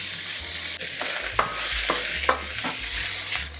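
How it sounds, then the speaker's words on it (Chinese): Pork pieces fry in hot oil in a wok for a Hakka stir-fry, a steady loud sizzle with a few sharp clacks of a utensil against the pan, no voices. "猪肉先让它煎，让它定型"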